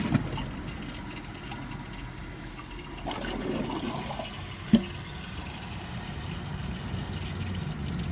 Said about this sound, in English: I'm going to give it another flush and see if it can pass it